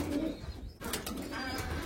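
Racing pigeons inside a loft give low cooing calls close by, along with a brief rustle or flap of wings partway through.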